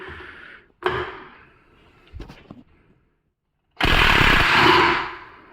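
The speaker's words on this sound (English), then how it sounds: "taking that top nut off, that is, now that it's clamped in, that's a 17 mil there" Top nut on a clamped strut from a 2006 Hyundai Tiburon being loosened with a 17 mm tool, loud close bursts of rattling power-tool hammering with knocks and a pause between them.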